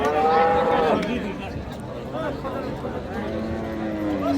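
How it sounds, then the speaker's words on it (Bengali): A Friesian cow at a busy rural cattle market in Dinajpur lets out close, drawn-out moos at the start and again near the end, over a murmur of people and market bustle. "গরু নিয়ে এসছি।"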